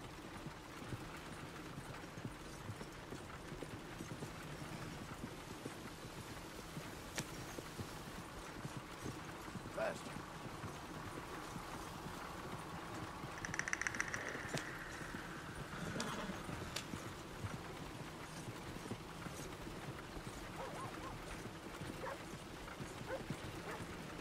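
Horse hooves clip-clop steadily along a road in Red Dead Redemption 2, a continuous moderate rhythm of hoofbeats heard close under game ambience, with a brief louder swell midway.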